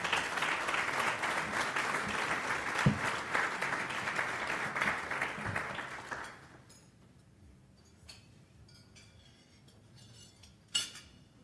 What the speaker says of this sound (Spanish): para quien les pido por favor las palmas correspondientes